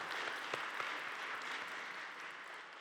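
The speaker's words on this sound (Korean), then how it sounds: "자, 박수." A church congregation during a Sunday worship service claps softly, producing a faint, distant and diffuse patter of applause with a few sharper individual claps early on, fading slightly toward the end.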